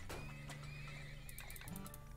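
A horse in the oil-drilling game Turmoil gives a loud wavering neigh over a dense game soundscape with hoof clops and a low hum, the whinny rising and trembling for over a second.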